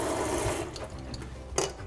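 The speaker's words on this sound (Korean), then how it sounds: "물을 틀어서 윗부분을 살살 이렇게 살살 비벼가면서 네, 이렇게 씻어주셔야 돼요." Garlic chives are rinsed under a running kitchen tap, with a steady close hiss of flowing water and a brief splash near the end.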